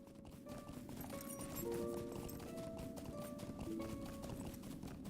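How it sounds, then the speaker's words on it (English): Rapid, steady hoofbeats of a fallow deer mount in the video game LOTRO, a continuous galloping clip-clop with faint tonal game music underneath, fairly quiet and without talk. "He's not riding a horse. He's riding like a moose or an elk."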